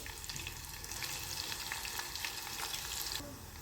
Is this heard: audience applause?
no